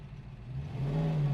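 A 1967 Ford Mustang GT K-Code V8 revs up, its low engine note rising steadily in pitch and loudness over about a second, close by and with no voices.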